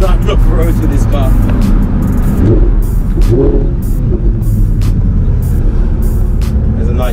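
2018 Audi R8 V10 Spyder driving in performance mode, a loud continuous engine and road roar heard from inside, with someone talking over it.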